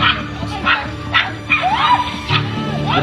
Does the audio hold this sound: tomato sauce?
no